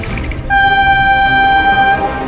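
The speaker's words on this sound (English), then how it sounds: "Oh my god, train!" A train horn blows one steady two-tone blast for about a second and a half over a low rumble of rail noise, with no talking.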